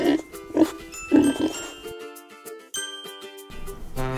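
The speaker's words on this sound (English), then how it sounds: "Pig." A pig oinks in several short grunting bursts, mixed with chiming, tinkling bell-like tones in a children's learning soundtrack.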